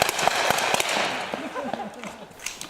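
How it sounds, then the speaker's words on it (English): Sharp cracks of blank simulation rounds from a platoon of ROTC cadets in an outdoor field exercise, several distinct reports scattered over a few seconds with voices calling out beneath them. "the platoon opens fire with blank simulation rounds"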